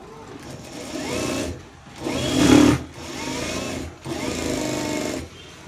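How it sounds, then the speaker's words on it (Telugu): A sewing machine stitches the shoulder seam of a blouse, running in three or four close whirring bursts separated by brief pauses. "ఈ బ్యాక్ పార్ట్ తీసేసుకొని ఇప్పుడు దీన్ని ఇలా మనము స్టిచ్చింగ్ అనేది చేసేసుకోవాలి."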